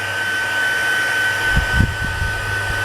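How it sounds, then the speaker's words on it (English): A heat tool blows hot air to dry paint on fabric, a loud steady whooshing drone close by, with a few low thumps of handling near the end. "I got the heat tool thing, which is going to be over here with me, just getting it dry a bit"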